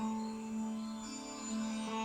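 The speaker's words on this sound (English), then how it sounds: "that is the sound of Indian restaurant music" Indian restaurant music plays faintly in the background, a quiet steady drone with a sustained tone and soft melodic lines, distant and low in level.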